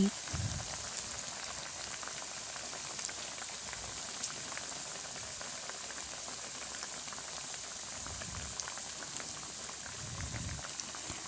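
Bitter gourd chips bubble and fry in hot oil, a continuous crackling, rain-like sizzle held at a fairly even level, close and unaccompanied by talk.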